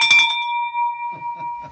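A single bell is struck once, giving a bright ringing tone that sustains and slowly decays, with a few soft knocks or handling sounds after it.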